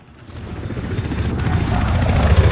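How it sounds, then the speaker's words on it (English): Enemy helicopter in the video game Battlefield 3, a rotor chop and engine roar growing steadily louder as it approaches, with no voices over it. "there's an enemy helicopter"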